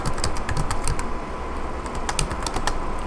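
Fingers type on a computer keyboard in quick bursts of close, crisp key clicks with short pauses between words.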